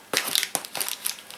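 Plastic bag wrapping around a boxed AMT-ERTL 1950 Chevrolet 3100 pickup model kit crinkles and crunches in several short bursts close to the microphone, with brief pauses between handlings.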